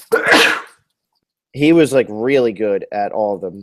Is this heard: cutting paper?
no